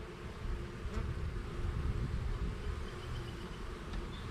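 Honey bees in an open hive with frames exposed, a continuous low buzzing drone that stays even and fairly quiet, with no voices over it.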